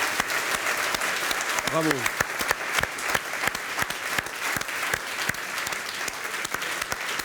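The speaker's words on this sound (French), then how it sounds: "On peut l'applaudir, oui, on peut l'applaudir." A television studio audience applauds steadily at a comedy show, with sharp individual claps over a continuous wash, and a voice briefly calls out partway through.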